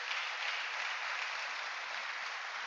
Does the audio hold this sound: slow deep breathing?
no